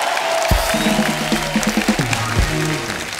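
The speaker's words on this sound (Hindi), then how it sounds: "जोरदार ताली हो जाए" A studio audience on The Kapil Sharma Show breaks into applause and cheering, a dense, steady wash of clapping and crowd noise that runs the whole time with tonal music-like sounds layered over it.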